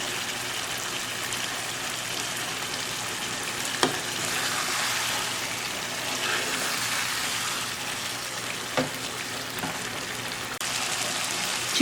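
Chicken frying in oil with yogurt, spices, tomatoes and green chilies for biryani, a dense continuous sizzle like steady rain, with a couple of sharp utensil taps, close and without voices.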